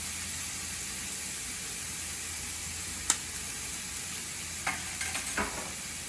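Ingredients stirred in an oiled pan while cooking onigiri fillings: a steady, close sizzle and hiss runs throughout, with a few light scrapes and taps of the utensil toward the end.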